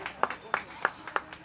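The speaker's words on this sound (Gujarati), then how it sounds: "તો એકવાર તાળીઓ થઈ જાય તરલ પટેલ માટે" Applause for an honoree at an award function comes through as a series of sharp, evenly spaced claps, about five in quick rhythm, fairly quiet and close.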